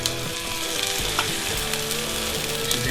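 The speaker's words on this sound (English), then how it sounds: "While your onions are frying, you need to turn over your burger." Onions and a burger patty sizzle and fry steadily in a hot pan, a dense close crackle with small pops and occasional stirring scrapes, no voices.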